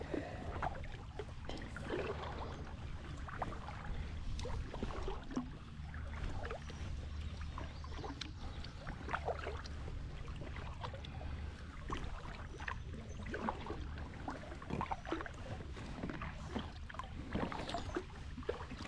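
Water sloshing and dripping with irregular kayak paddle strokes close by on the Salamonie River in Indiana, a steady low rumble beneath, no voices.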